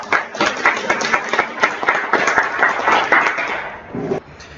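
A small group at an alternative education meeting claps together for a few seconds, individual claps audible in an uneven rhythm, then it tapers off into quiet.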